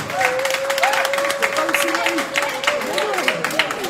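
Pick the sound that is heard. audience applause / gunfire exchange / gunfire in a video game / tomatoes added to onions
audience applause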